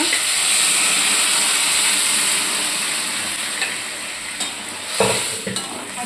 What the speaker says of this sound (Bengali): ডালের মশলা প্রায় কষানো হয়ে গেল রান্না হচ্ছে